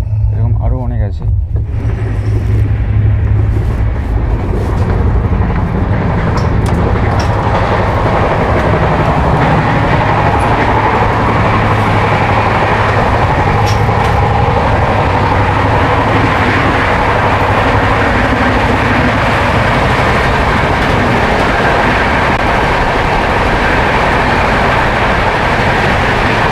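Interior of the Shipra Express (22911, Indore to Howrah) in an AC coach, speeding at around 132 km/h, with a dense continuous roar of wheels and carriage rumble that stays loud and unbroken.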